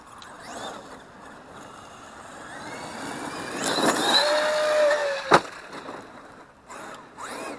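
A Traxxas RC car with aftermarket wheels drives and leaps, its small motor whining faintly before a sharp clattering landing, then rolling on with scraping and rattling.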